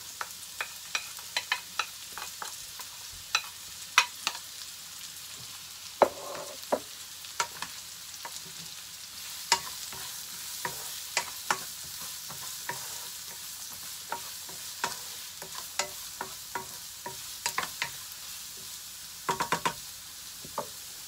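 Onions sizzle in a frying pan for a palabok sauce, a steady broadband hiss punctuated by frequent sharp spatula stirs and scrapes against the pan, close and moderately loud with no talking.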